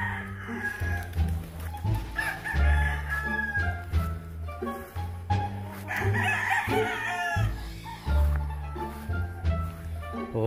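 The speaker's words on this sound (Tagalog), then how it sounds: "Ito yung mga manok natin" Chickens and a rooster on a family farm cluck and crow repeatedly and nearby, forming a busy, continuous flock chorus with no talking.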